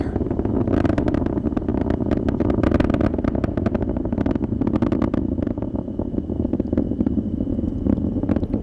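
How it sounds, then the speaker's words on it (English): SpaceX Falcon 9 rocket engines roar steadily during ascent, a loud, dense, continuous broadband rumble with crackling bursts throughout and no voices. "Falcon 9 engines pulling back just a little bit as that max Q milestone passes"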